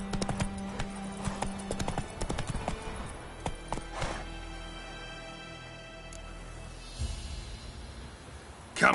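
Roach the horse gallops in The Witcher 3, steady rhythmic hoofbeats clip-clopping at moderate loudness throughout, with a few brief louder thumps and no talking.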